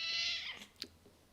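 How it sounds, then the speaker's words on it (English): A cat gives a single soft, high-pitched meow that trails off, followed by a faint tap. The sound is quiet and nobody speaks. "We've got a cat already."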